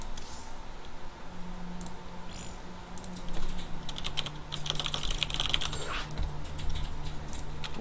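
Keyboard typing in a bursty, uneven rhythm of quick clicks, moderately close, sitting over a steady low hum from a computer game in the lobby of a tournament finals match, with no voices.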